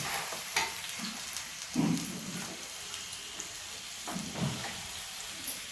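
Thinly sliced onions sizzle steadily in a pan, a soft, continuous crackle with occasional stirring scrapes, heard alone at moderate distance.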